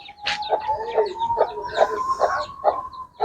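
Hens and chicks clucking close by in a quick series of short calls at dusk over a thin steady hum, with no talking.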